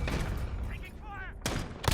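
Gunfire in the Call of Duty Modern Warfare video game comes as two sharp, loud bursts near the end, over busy battle noise. A voice calls out amid the action.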